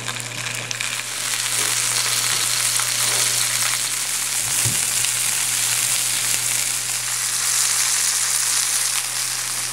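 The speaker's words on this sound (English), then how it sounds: "We got the searing process done." Burger meat searing in a hot pan, a loud, steady, hissing sizzle that holds without a break, with a constant low hum beneath it and a single brief clank partway through.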